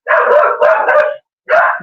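A dog barks at someone walking by, two close loud barks run together, then a short gap and a third bark.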